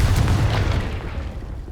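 Booming blast of the Confringo spell in Hogwarts Legacy, a loud dense low-end burst that fills the short moment and fades slightly without any voices.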